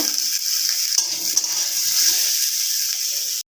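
Mutton sautéing with masala until brown in a pan for a restaurant-style mutton biriyani gives a steady, bright sizzling hiss with occasional stirring scrapes, close and continuous until it cuts off abruptly.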